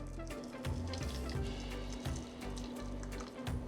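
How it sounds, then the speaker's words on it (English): Pickling liquid is poured over sliced onions in a jar, a close, steady trickling and splashing stream with a few louder gulps and a faint hum underneath. "you're just gonna wanna pour it till it covers the onions"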